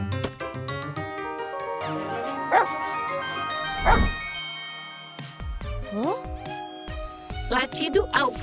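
A cartoon dog in a children's animated series barks and yips in short bursts over a busy musical score and cartoon sound effects, with voices heard at moments.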